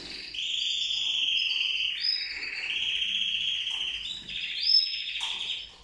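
Canary and goldfinch chicks about 13 days old chirp in sustained, high, shrill calls that run almost continuously and fairly close, with brief pauses between bursts and no talking.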